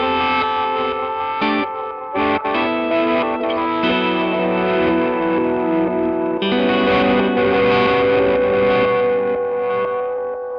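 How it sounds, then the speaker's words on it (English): Electric guitar swells through an effects chain with a very long-decay reverb set high in the mix, giving a loud, sustained ambient wash with chorus-like shimmer and distortion, notes blooming in and overlapping continuously with no speech. "So the reverb, I also have it set on a super long decay, really high in the mix kind of thing."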